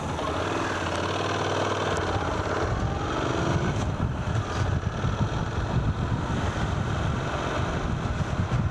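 A 2016 Honda NC750X motorcycle engine running on a test ride, a low rumbling drone heavily buffeted by roaring wind noise that swells and gusts throughout, loud and continuous with no clear talking.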